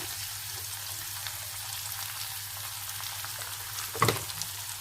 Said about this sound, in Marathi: आता आपण यात चिरलेला टोमॅटो घालूया.